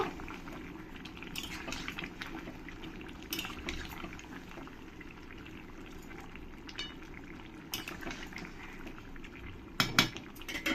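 Chicken kosha with capsicum being mixed in a pan makes a quiet bubbling sizzle with intermittent metal spoon scrapes and clinks against the pan, close by, a few louder knocks toward the end.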